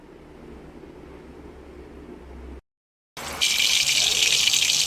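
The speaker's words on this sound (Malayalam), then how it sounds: "അപ്പോൾ ചീനച്ചട്ടി ചൂടായതിന് ശേഷം എണ്ണ ഒഴിക്കണം." Oil is poured into a heated cheenachatti wok, a loud, close rushing hiss that starts abruptly after a brief silence and stays steady to the end.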